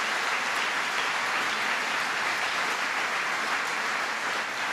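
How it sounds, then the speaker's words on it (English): Dense, steady applause from a large audience for Dr. Elaine Calleros at a photonics event in New York. The clapping fills the whole stretch at an even level, with no voices over it. "Dr. Calleros, a big round of applause."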